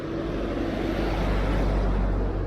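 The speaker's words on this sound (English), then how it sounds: "Oh yeah, gets a bit of traffic," Road traffic on a suburban street near the shops at Clifton Beach, a steady broadband rumble of cars passing nearby, fairly loud and continuous with no talk.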